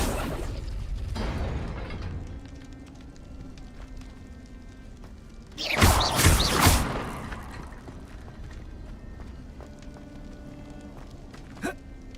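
The Incendio fire spell cast in Hogwarts Legacy, a sudden whooshing burst of flame midway that swells and fades over about a second, set against quiet game ambience with a soft pop near the end.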